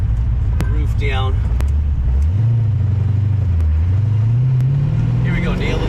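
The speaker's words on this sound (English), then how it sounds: "Give you a little example of what it's like driving this thing with the top down." A C4 Corvette accelerates with the top down, its engine note rising steadily in a loud, close drone, with wind rushing past and a voice briefly heard over it.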